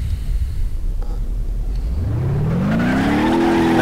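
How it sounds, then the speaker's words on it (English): A damaged car engine in BeamNG Drive labours with a low rumble, then its pitch climbs steadily as it strains and revs up, growing louder and rougher toward the end. "Oh, that struggling engine."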